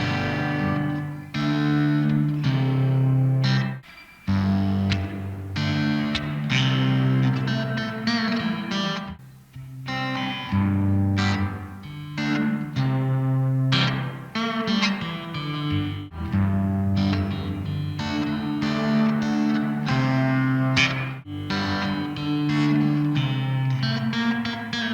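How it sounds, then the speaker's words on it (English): Electric guitar playing a chordal, melodic passage through a Donner VintaVerb reverb pedal, soaked in lush, swelling reverb with a distorted edge, continuous and loud with brief pauses between phrases. "when you're like really drenching your tone in reverb and you want the original signal to just kind of pop out"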